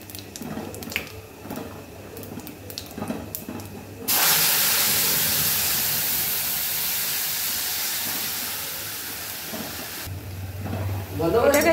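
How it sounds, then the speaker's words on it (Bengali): Paste of onion, ginger, garlic, chili and tomato is tipped into hot oil and fries with a loud, steady sizzling hiss for about six seconds. Softer kitchen clatter comes before it, and the sizzle drops away near the end. "এটাকে দিয়ে মশলাটা আরেকটু ভালো করে তেল ছাড়া অবধি কষিয়ে নিতে হবে।"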